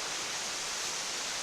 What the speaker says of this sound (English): That's probably about a 6 or 7 foot waterfall.